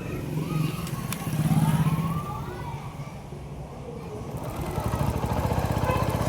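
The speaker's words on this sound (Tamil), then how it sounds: "இப்போ வண்டியை ஸ்டார்ட் பண்ணுவோம்." A TVS XL100 BS6 moped engine runs close by after a throttle fault was cleaned and reset, a low, steady pulsing idle that swells briefly and then settles into a faster, rougher throb.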